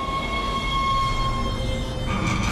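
A tram in the Dead Space video game rolls along with a steady mechanical rumble and sustained whining tones overhead, loud and continuous with no voices.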